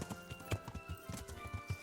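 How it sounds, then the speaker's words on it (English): Horse hooves in the medieval game Kingdom Come Deliverance, a quick run of soft clip-clop steps at close range over faint background ambience. "That one guy's horse. Still here."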